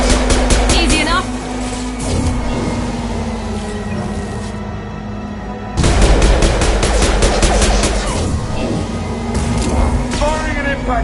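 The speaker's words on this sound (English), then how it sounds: "Firing an impact shot." An impact shot fired during a Mass Effect 2 firefight, with steady rapid gunfire throughout and a sharp, louder burst of shots midway, loud and close.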